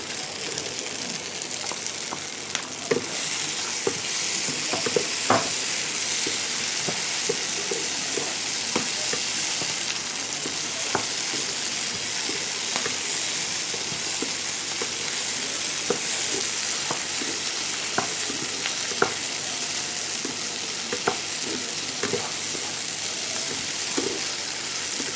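Chilli chicken stir-fried in a pan, with pre-fried chicken pieces added, sizzles loudly and steadily throughout, broken by frequent sharp scrapes and clacks of a spatula against the metal.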